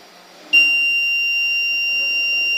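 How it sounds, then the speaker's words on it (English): A smoke alarm switches on abruptly and holds a loud, piercing continuous high-pitched tone without a break. "this alarm goes on, and as well as we can hear the noise through this buzzer"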